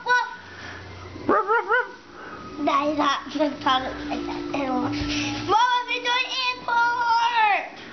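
A dog barks and yips in short bursts, mixed with a voice talking nearby, fairly close and moderately loud.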